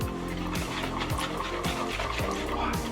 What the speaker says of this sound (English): Sparkling water.